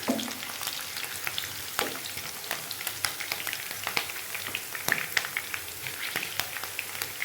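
Slit green chilies drop into hot oil for a dal tadka, sizzling and spitting steadily with many sharp crackling pops scattered throughout, close and continuous with no voices.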